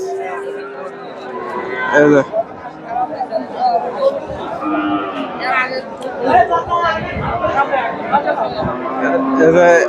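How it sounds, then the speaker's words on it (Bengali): Friesian cross bulls lowing at a busy cattle market, several loud close moos rising over constant crowd chatter and bargaining voices. "প্রচুর সার গরু আছে"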